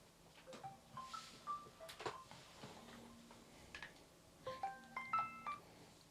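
During a phone call, a telephone is dialed with touch-tone keypad beeps. Two quick bursts of single tones sound at low volume in a quiet room, separated by a short pause.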